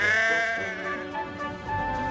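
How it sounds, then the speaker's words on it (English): Sheep bleat from the railway line in a Trainz train simulation remake, with one drawn-out wavering call and layered cries over a dense, steady background. "Some careless sheep had strayed onto the line."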